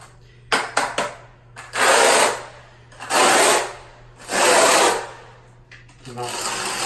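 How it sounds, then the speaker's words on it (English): Notched trowel spreading tile mortar over a concrete basement washroom floor, several close rasping scrape strokes, each about a second long, with brief knocks between them and a low steady hum beneath. "Now, I'll use the notch side of the trowel."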